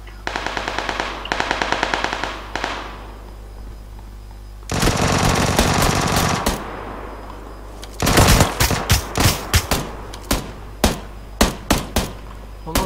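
Automatic gunfire in PUBG Lite: loud bursts of rapid rifle shots in several runs, then a string of separate sharp single shots near the end, with no talk.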